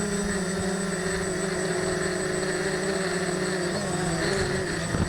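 A radio-controlled model helicopter flies with a steady, high whining motor and rotor drone, strong tonal hum holding constant throughout, with a slight shift in pitch near the end.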